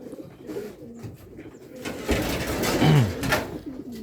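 Released racing pigeons in Cavite coo softly in low, throaty bursts, a few close calls over outdoor background noise that swells midway.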